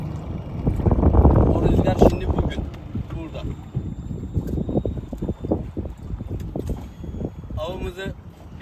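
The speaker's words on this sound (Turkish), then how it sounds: "Evet rüzgar başladı." Steady wind on a fishing trip buffets the microphone with low rumbling gusts over lapping water, while a voice speaks briefly in the background.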